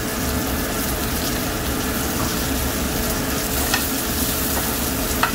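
Sliced onion and mushrooms frying in a pan, a steady loud sizzle and crackle filling the whole stretch without pause, with a few faint clicks near the end.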